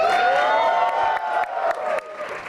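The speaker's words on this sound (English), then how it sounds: "And then erupts in cheers." A theater audience roars and cheers as comedian Veer Das walks on stage, a dense, sustained wall of crowd noise with whoops and applause that holds steady for the whole moment.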